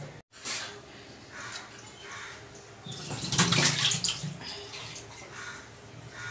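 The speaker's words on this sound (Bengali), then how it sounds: "এখন গরম জলে মটন ধুচ্ছে পরিষ্কার করছে" Hot water running steadily while mutton is washed clean, a continuous close splashing rush that swells louder midway with extra sloshing and spattering.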